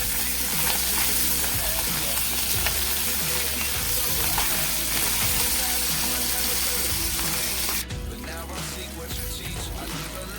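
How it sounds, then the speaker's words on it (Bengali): Fresh tangra fish fry in hot oil, a loud, dense, continuous sizzle and bubbling heard close, with a brief shift in tone near the end as the frying continues, no voices over it. "আমি ট্যাংরা মাছগুলোকে খুব সুন্দর করে ভেজে নিলাম।"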